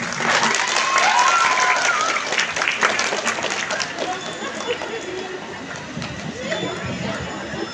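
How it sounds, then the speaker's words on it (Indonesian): A crowd at a celebration event at an Islamic boarding school claps in dense, lively applause that gradually softens, with voices chattering underneath. "Tepuk tangan buat Ananda Nupus."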